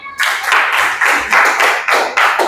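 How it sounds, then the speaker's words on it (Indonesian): A classroom group claps for a presenting group, a steady stretch of close, loud applause lasting a couple of seconds with rhythmic surges. "Beri aplaus dulu kelompok 2."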